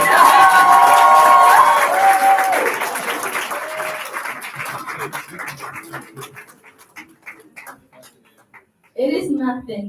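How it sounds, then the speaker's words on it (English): A graduation audience claps and cheers loudly at first, the applause gradually thinning into scattered claps before fading out, after which a voice begins speaking. "Please keep clapping so she"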